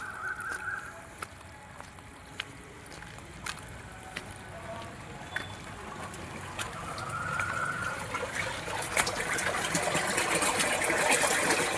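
Water trickles and gurgles steadily through a broken underground pipeline in Bhimavaram, in an enclosed, echoing space, growing slightly louder toward the end, punctuated by occasional faint clicks and taps.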